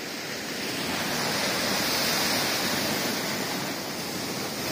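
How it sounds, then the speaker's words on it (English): Sea waves crash onto a pebble beach in strong wind, a continuous loud wash of surf that swells and recedes with no voices. "Oh, look at the waves coming over."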